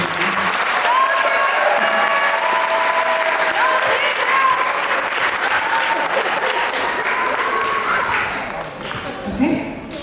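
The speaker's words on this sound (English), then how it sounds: "A good round of applause to all of our student speakers here." Sustained applause from a graduation ceremony crowd, steady and full for most of the stretch before thinning slightly near the end, with faint cheering voices mixed in.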